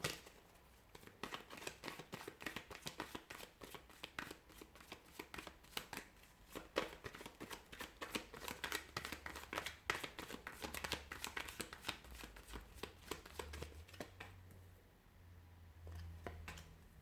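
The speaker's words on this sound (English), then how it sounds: "give the cards a shuffle" Playing cards are shuffled repeatedly, a rapid riffling flutter of crisp snaps close by, continuing in bursts for a long stretch.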